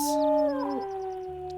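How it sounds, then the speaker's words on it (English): A single wolf howls nearby, a clear sustained tone that slides downward in pitch and then holds steady. "Oh, that's Water Lily's howl. That sounds very sorrowful."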